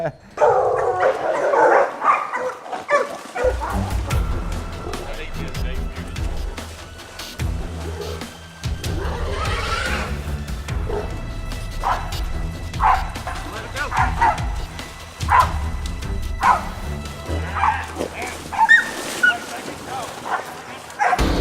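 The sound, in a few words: catch dogs barking while catching a hog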